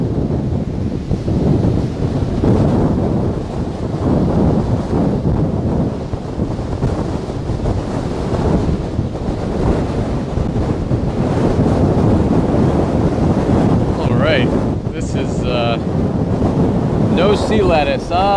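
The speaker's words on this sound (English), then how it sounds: "Now, there's some waves crashing on some rocks right here." Ocean waves crash against rocks on a beach in high wind, a loud, continuous roar and wash with heavy wind buffeting the microphone, plus a few high chirping calls near the end.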